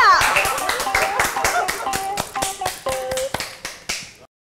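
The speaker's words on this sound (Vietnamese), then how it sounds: "Một tràng vỗ tay cho hai người mới ạ." A small group on a family sitcom set applauds two newcomers, with distinct sharp claps and voices calling out over them before the clapping thins and stops abruptly.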